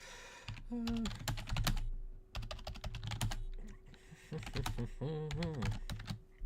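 Quick clattering keystrokes on a computer keyboard come in bursts, with a person talking over and between them.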